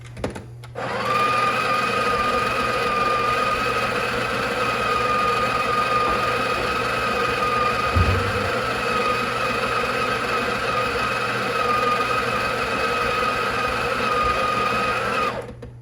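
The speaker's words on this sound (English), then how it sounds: "And then we start the grind." Breville Barista Pro espresso machine grinding coffee beans, a steady loud whirring motor drone that runs unbroken for about fifteen seconds, starting and stopping abruptly, with no talking.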